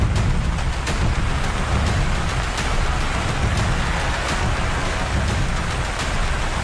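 Heavy monsoon rain pours down during a flood in Kottayam, Kerala, a dense, unbroken hiss of loud rainfall with no pauses, constant for the whole stretch.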